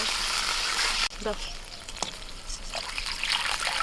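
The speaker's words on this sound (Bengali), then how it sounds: "আদাটা একটু ভেজে নিয়ে দিয়ে দিচ্ছি জল" Water is poured into a pan of frying ginger paste with panch phoron; a loud hissing sizzle cuts off abruptly, followed by softer bubbling, dribbling and light stirring, no talk.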